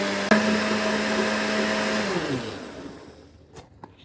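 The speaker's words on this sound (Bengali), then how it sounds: "সুন্দর করে ব্লেন্ড করে নিচ্ছি।" Electric blender whirring through a cake batter of egg, sugar, milk and oil, a loud steady motor drone that winds down and fades, with a few faint knocks at the end.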